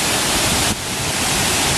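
A waterfall on a hiking trail roars close by as a dense, constant rush of falling water that fills the whole clip, with no voices.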